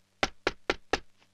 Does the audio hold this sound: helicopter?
no